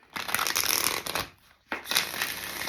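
A deck of cards being shuffled and cut, two bursts of riffling and rustling close up separated by a brief quiet gap, with no talking.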